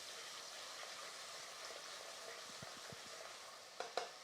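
Curry frying in a pan with chilli flakes and kasuri methi being stirred in, a steady close sizzle with several soft spoon scrapes and a couple of sharper knocks near the end, no talking.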